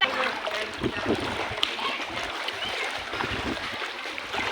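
Floodwater rushes and splashes along a flooded road in Calumpit, a continuous broadband wash of moving water close by with no talk over it.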